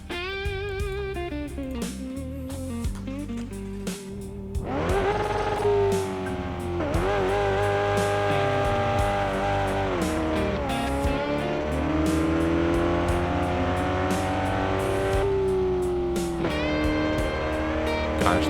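Car engine in a racing video game revving loud and steady, rising and falling through gear changes as the car accelerates, continuous with no talking.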